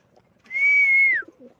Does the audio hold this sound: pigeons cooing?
yes